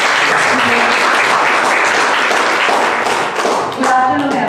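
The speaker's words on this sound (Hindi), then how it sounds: "जब कोई भी स्टेज पे आए तो उसकी तालियों के साथ स्वागत कीजिए" Audience at a poetry event claps loudly to welcome a performer onto the stage, a dense close burst of applause with a few distinct hand claps and a brief dip near the end.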